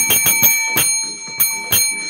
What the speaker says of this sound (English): Ringing my damn bell